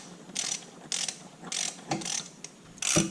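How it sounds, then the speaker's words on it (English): Ratchet and socket turning a fitting on a turbo Miata's oil and water lines, heard as several short bursts of rapid metallic clicking separated by brief pauses, close and clear with no talking. "we're going to use a ratchet and a socket"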